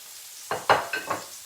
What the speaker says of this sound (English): I'm just going to stir up the kale and cauliflower